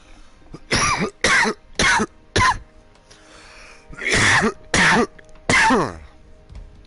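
A string of sharp coughs and throat clears, seven or eight short bursts with brief gaps, close and loud, no talking.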